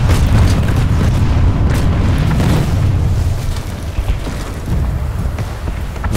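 A tank explodes in Planetside 2, a loud, deep booming blast that rolls on and slowly fades, with low rumble dominating throughout.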